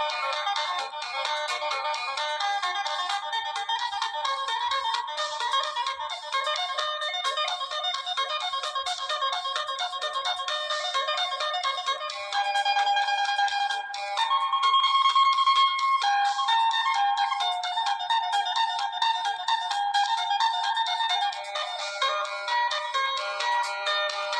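Bright plucked melody on a Thai phin lute rings out steadily with dense, twangy high tones, played alone without voices for the whole stretch.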